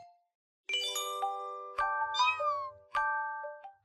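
A cartoon cat meows three times in an animated Islamic children's cartoon. The bright, tonal meows come close and clear with short gaps between them, over a silent background, and no one speaks.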